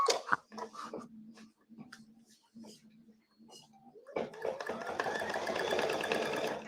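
A home sewing machine starts stitching after a stretch of someone talking, settling into a steady, fast mechanical whir that carries through to the end.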